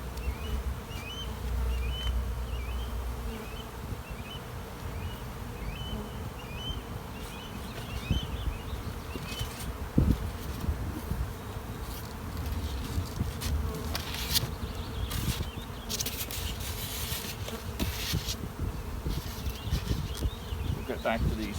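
Dense, steady buzzing of a large honey bee colony at an open hive, holding close and continuous throughout with occasional louder passes of individual bees near the listener.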